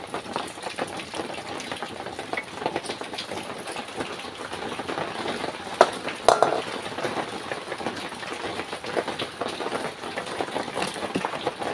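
Ginger-fried oil poured into a clay pot set on a fire, giving a steady crackling fry with occasional utensil scrapes and knocks throughout.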